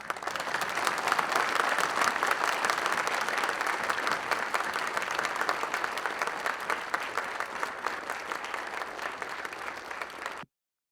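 Sustained audience applause fills a large gathering during a spiritual discourse on the Bhagavad Gita, dense steady clapping from many hands running continuously for about ten seconds before cutting off abruptly.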